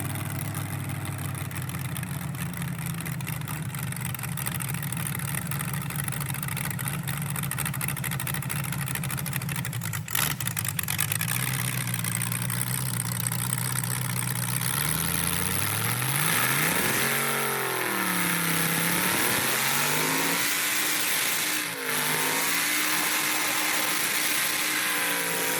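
A car with a 4L60E automatic transmission roars through a burnout at a car event, holding a loud steady drone, then revving hard in rising and falling sweeps as it shifts gears.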